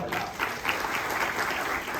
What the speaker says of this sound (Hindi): जोरदार तालियां यहां पर।